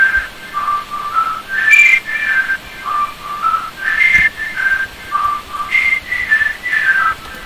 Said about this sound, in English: There's another sound, which is a whistle.